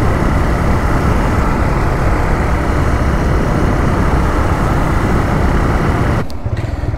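Two 125cc motorcycles, a TVS Raider 125 and a Honda SP 125, running together during a mileage test with both engines slightly misfiring; a loud, steady engine drone with wind buffeting, dropping off sharply near the end.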